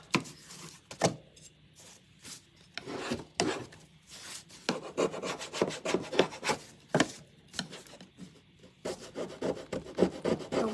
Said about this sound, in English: Now I'm just going to take my paint scraper. I'm going to scrape